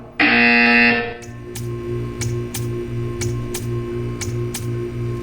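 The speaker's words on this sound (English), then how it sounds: "You will hear a buzzer." An electronic buzzer in the video game Portal 2 sounds one loud, harsh tone for about a second, followed by a steady run of evenly spaced ticking clicks over a low hum.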